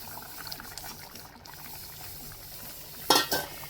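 Tamarind water poured into okra curry simmering in a pot, with a soft bubbling bed and a brief splashy stir near the end, fairly faint and close.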